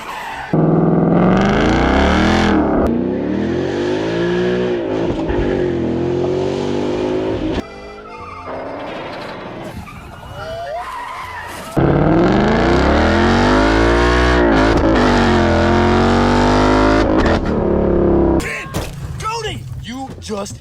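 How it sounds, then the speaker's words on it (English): Loud Mustang with an overhauled exhaust, harsh engine revving in rising and falling sweeps with bursts of tire noise, close and aggressive, with people talking over it at times. "I always wanted an obnoxiously loud Mustang, and now I own one."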